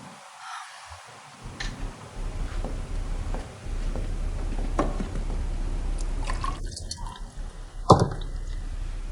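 Water is poured into a glass in a few small trickles and drips, with a brighter splash of liquid near the end, fairly close and otherwise quiet.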